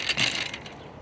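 An undialed BMX bike dropped onto the ground, giving a brief loose metallic rattle and clatter of parts that quickly fades, fairly close and with no talking.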